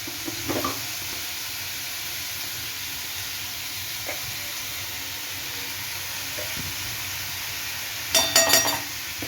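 Fried chillies, green chillies and ginger sizzle softly and steadily in a pan, with occasional light stirring taps and a short burst of metallic clinks near the end.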